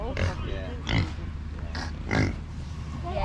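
Pigs grunting in an enclosure at a nature centre, a few short bursts of low grunting close by at a steady moderate level, with a busy background around them.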